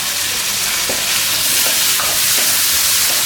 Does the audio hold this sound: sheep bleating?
no